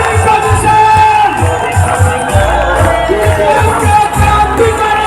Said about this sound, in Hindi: अगली आवाज आप सभी जबरदस्त तालियां।